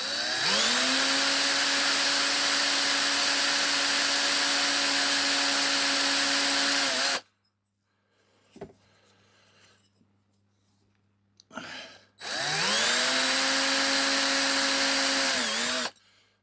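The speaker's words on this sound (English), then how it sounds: "Keep your drill bit nice and clean." A power drill bores into a die-cast Matchbox No 11 scaffolding truck, running at a steady high whine for about seven seconds, stopping with faint handling clicks, then whirring again loud and close.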